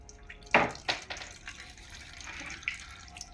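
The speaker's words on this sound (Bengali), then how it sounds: "এরকম চিপড়ে নিতে হবে ভালো করে জলটাকে" Water is squeezed by hand out of grated papaya paste, giving a few wet splashes and trickles at close range in a quiet kitchen.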